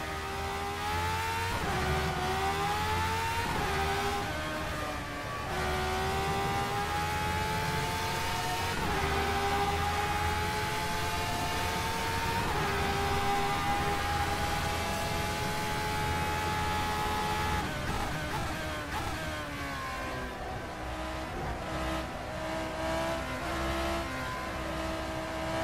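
A Brabham BT44B race car engine screams steadily at Lakeside Raceway in a racing game, its pitch climbing and dropping through the gears. It stays loud and continuous throughout, with no talk.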